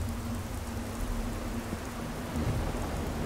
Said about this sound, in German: Boah, ist das geil mit dem Sturm.